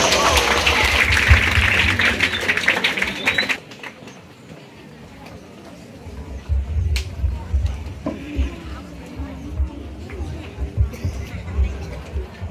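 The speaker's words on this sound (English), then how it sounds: "Let us give a big round of applause." An audience at a school cultural meet breaks into a dense burst of clapping for roughly three seconds, then it fades and leaves a quieter room with murmuring voices and light movement.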